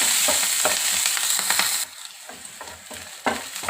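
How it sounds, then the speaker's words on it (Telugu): Green chillies and garlic sizzle in a little oil in a pan, a steady bright hiss broken by repeated stirring scrapes, close and clear with no talk. "సగం చెంచా నూనె వేసుకొని సన్నగా కట్ చేసుకున్న 4 పచ్చిమిర్చి ముక్కలు, ఒక 4 వెల్లుల్లి ముక్కలు సన్నగా కట్ చేసుకున్నాయి."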